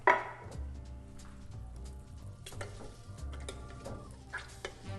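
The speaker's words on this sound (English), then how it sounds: "And this can of tomatoes. Now we're going to mash those down." Canned tomatoes with basil get mashed down in a soup pot, soft wet squishing and scraping with a sharp clatter at the start, then irregular pressing sounds and light pot knocks, close and quiet with no talk.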